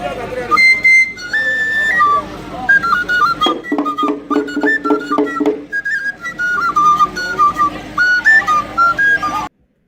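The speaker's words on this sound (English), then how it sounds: "So a little bit more of the Atilogu whistles" Atilogu whistles shrill in lively sequences of sharp, high pitched blasts and trills, loud and close, with rapid stuttering bursts in the middle before cutting off abruptly.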